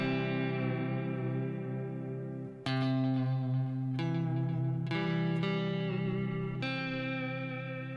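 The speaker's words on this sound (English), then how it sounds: "now I'll add the slap back echo or delay sound, and it just fills it out a little bit more" Clean electric guitar playing a tune through tape echo and slapback delay, sustained twangy notes with repeating echoes filling out each phrase, close and loud with no talking.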